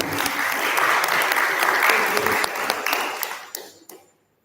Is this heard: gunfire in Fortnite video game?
no